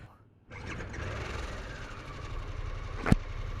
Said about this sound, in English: Definitely a different sound than what you're used to out of a Harley